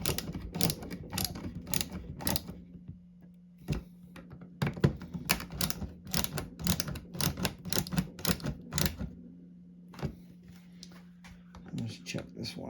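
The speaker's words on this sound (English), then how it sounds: "a ratcheting screwdriver" A ratcheting screwdriver clicks in quick bursts of sharp, closely spaced ticks while a steady low hum runs underneath, with a few pauses between bursts and a spoken voice near the end.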